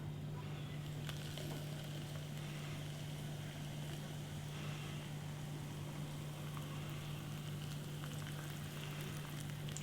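Water from a freshly boiled kettle pours into a Maruchan beef flavor instant noodle cup, a steady close splashing rush that runs unbroken for about ten seconds under a constant low hum, with no talk.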